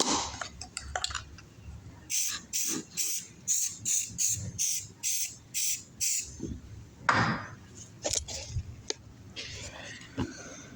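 An aerosol can of crack-detection developer sprayed onto an Austin 7 Brooklands engine, heard as a series of short, sharp hissing bursts in steady rhythm, close and fairly loud, with scattered clicks and handling noise between them.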